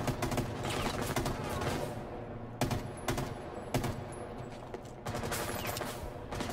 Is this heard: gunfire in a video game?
yes